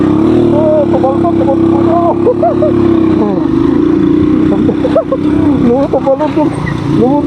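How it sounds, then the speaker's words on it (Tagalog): Motorcycle riding a mountain back road from Baguio through Itogon, Benguet, its engine droning steadily and loud throughout with some jolting over rough ground, while someone talks over it. "Lumundag yung motor."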